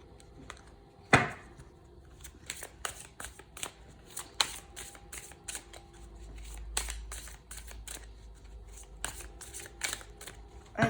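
Tarot cards shuffled by hand in a series of crisp riffling and slapping bursts, one sharp snap near the start and then steady irregular flicks, close and fairly quiet in a still room with no talking.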